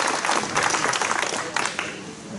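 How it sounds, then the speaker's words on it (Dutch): Short burst of audience applause at a sand sculpture event at a museum in Oosterhout, the Netherlands, with many people clapping together at moderate volume and a faint murmur of voices underneath. "En dan had ik hier staan een groot applaus"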